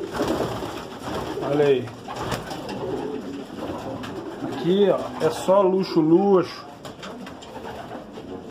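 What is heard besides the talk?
racing pigeons cooing in a loft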